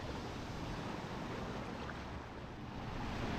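Surf washes continuously at Violin Beach in Huatulco, a soft steady rush of waves mixed with wind noise, with no voices heard.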